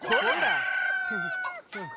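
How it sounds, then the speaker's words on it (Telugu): A rooster crows in a long drawn-out call, followed by two short clucks, loud and close with no talking. "అది మామూలు కోడి కాదురా, కోట్లు కొట్టుకొచ్చే నా లక్కీ కోడి"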